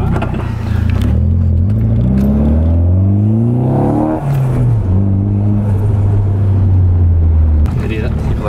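A Nissan S14 with an RB25 engine revs up loudly, its pitch climbing in steps, then the throttle lifts with a brief turbo flutter before settling into a steady, close drone.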